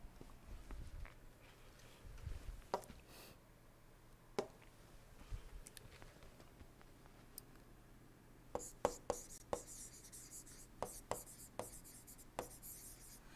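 Chalk or pen writing on a board during an engineering lecture on engine operating regimes and carburettors, a run of faint, irregular taps and scratchy strokes that grows busier toward the end, with no talking.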